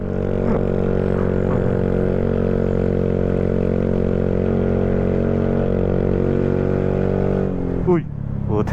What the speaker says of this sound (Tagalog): Sarap ang motor mga brother pagka ganitong ahon.